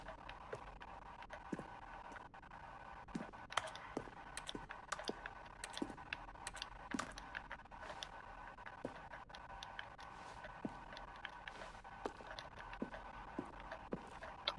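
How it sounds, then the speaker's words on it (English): Stanley Parable button sounds, each a keyboard keystroke blended with a synthesized tone, click out as a sparse, irregular run of soft taps and brief tones against a faint steady hum. "A selection of sounds used throughout the game when buttons are pressed. Each sound is a mix of a keyboard stroke and a synthesized tone."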